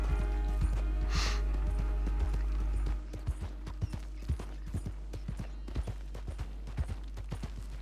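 Hoofbeats of a horse in Red Dead Redemption 2, a brisk regular clip-clop that carries on throughout, slightly quieter after the first few seconds, with no talking over it.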